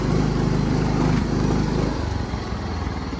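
A John Deere 260 lawn tractor strains its engine as it pulls a hitch loaded with wet sand; the close, loud, throbbing motor labors, then drops to a lower, rougher chug.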